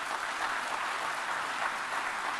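A large audience claps steadily at a formal speech in Dakar honoring Ireland's president, a continuous even wash of applause with no voices over it.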